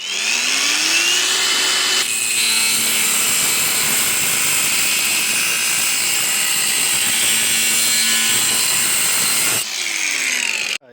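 A power saw slices through metal plate while a custom bodykit is fabricated for a turbocharged, manual-swapped Mk2 Toyota Supra, giving a loud, steady high-pitched whine of about seven seconds, with the tool revving up before and spinning down after.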